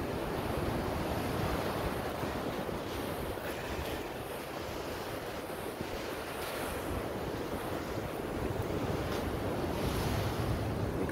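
Waves wash steadily onto a shoreline, a continuous broad surf roar mixed with wind buffeting the microphone, with no voices.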